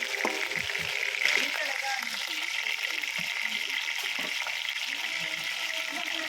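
Garlic, onion and ginger sauté in a pan for balbacua, a steady hissing sizzle with occasional utensil scrapes while a person talks over it.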